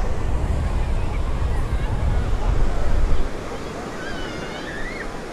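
Sea waves and strong wind roar at Panambur beach in Mangalore, loud and steady with heavy wind buffeting the microphone, easing after a few seconds, with distant voices faintly in the background.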